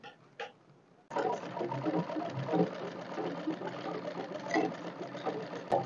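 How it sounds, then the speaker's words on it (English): A sewing machine stitches down the edge of crinoline for a ball dress, starting after a couple of faint clicks and then running in a steady close mechanical whir to the end. "It's easy to sew it now that I've pressed on it, so just continue sewing it down."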